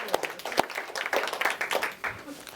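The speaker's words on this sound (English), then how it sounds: "Can we give Homera a big round of applause for coming?" A small classroom audience claps for a student volunteer called to the front, uneven, scattered hand claps at close range that thin out toward the end.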